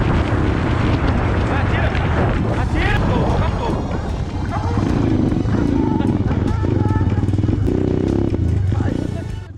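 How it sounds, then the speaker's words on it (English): A loud, continuous motorbike engine rumbles throughout, heavy low-end drone with shifting revs and a dense, roaring texture. "the hum of Lucas's motorbike echoed across the plains"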